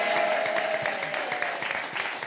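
A studio audience applauds the contestants on a French TV quiz show, steady dense clapping that fills the whole moment at moderate level with no speech over it.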